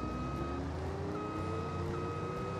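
A vehicle reverses in the farming video game Farming Simulator 25, giving a steady high reversing beep over a continuous heavy engine rumble, loud and unbroken throughout.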